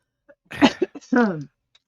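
A few short, throaty coughs in a quick cluster, close and clear, with brief breaths between them and quiet otherwise.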